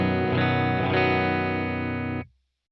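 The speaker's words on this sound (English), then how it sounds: "The guitar on its own sounds like this." Clean electric guitar chord ringing out through an HX Stomp amp and cab model, strummed twice then sustained brightly before cutting off abruptly, heard alone without other instruments.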